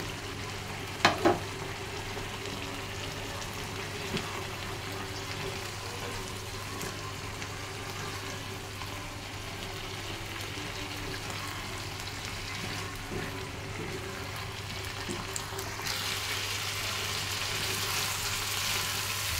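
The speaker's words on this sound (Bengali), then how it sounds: "এখন সেদ্ধ করা নুডলসগুলো এই পাস্তাগুলো দিয়ে দিব" Boiled pasta goes into a hot pan with a spoonful of vinegar for a spicy pasta dish, giving a steady, even sizzle and frying hiss with a brief clatter near the start, moderately close.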